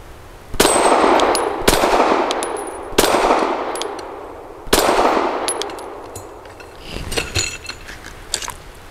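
A Stoeger STR-9S pistol firing PMC Bronze 115 grain rounds during combat-style shooting, four loud sharp reports spaced about a second apart, then a quicker ragged cluster of softer shots and clinks near the end.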